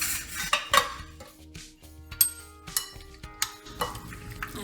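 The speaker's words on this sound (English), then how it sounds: "And just mix it all up" Spoon scraping and clinking against a bowl while cherry cobbler filling is mixed, with irregular close knocks and scrapes of utensil on dish over a few seconds.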